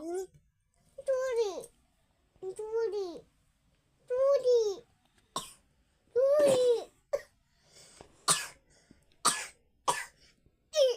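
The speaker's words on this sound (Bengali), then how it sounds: "কাশি হচ্ছে তো?" A child coughs several times in short bursts, interspersed with babbling, throat clearing and bits of laughter, close and clear in a quiet room.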